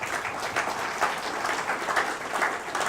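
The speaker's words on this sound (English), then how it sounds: "Round of applause." An audience applauds with dense, steady clapping that continues throughout, moderately loud and without any talking.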